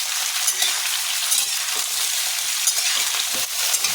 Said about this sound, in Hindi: भिंडी को अच्छे से फ्राई कर लेंगे